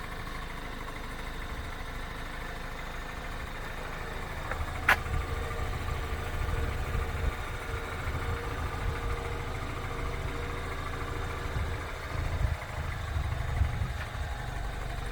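A BMW X5 engine idling at a steady low rumble, nearby and unchanging throughout, with a faint click partway in and no talking.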